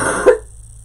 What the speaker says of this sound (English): Sorry, I'm getting ready to cough.